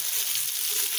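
Shish tawook coated with mustard sizzles on a grilling tray, a dense continuous hiss of frying held close and steady with no talk over it.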